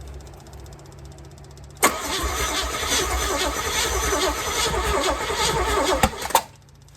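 A 1978 Camaro drag car engine cranks and catches at once, bursting into a loud, steady running roar close by that holds for several seconds, then cuts off abruptly after a couple of sharp pops.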